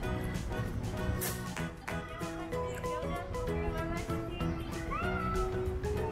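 A kitten meows several times amid a busy backdrop of music and voices, the cries rising briefly above the steady mix.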